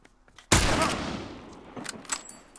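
A hunting rifle fires in The Last of Us video game with one loud, sharp blast, followed by a long echoing tail and a few fainter thuds and clicks afterward.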